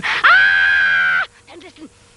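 A woman's long, loud scream from Samuel Beckett's 1973 play Not I, a strained wail of about one second, then breaking off into faint, choked groans and whimpers.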